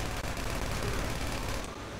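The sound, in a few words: gunshots fired at the player's vehicle in a video game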